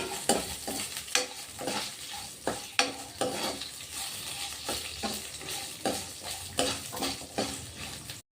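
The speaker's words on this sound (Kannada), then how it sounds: "ನೋಡಿ ಒಂದು ಎರಡು ನಿಮಿಷ ಚೆನ್ನಾಗಿ ಫ್ರೈ ಆಗಬೇಕು ಎಣ್ಣೆಯಲ್ಲಿ" Coriander, chillies and coconut frying in oil in a pan, a steady close sizzle broken by repeated scraping stirs of a spoon against the metal, with no voices.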